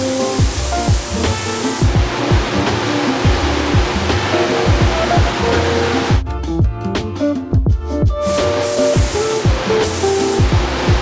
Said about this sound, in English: I decided to do a test spray on the hood